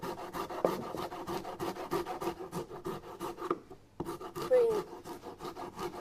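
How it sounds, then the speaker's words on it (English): Fresh ginger, a tough and fibrous root held firmly against a board, is rasped across a fine grater in a steady run of quick scraping strokes, close and fairly quiet, with a brief pause partway through. "ginger's quite tough to grate because it's so fibrous"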